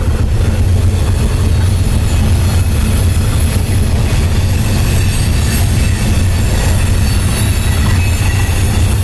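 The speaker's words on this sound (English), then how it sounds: "We caught a coal train heading down the mountain." Loaded coal train rolling down the mountain on the Clinchfield line near Spruce Pine, North Carolina, a loud, continuous rumble of heavy railcars and wheels passing close by without pause.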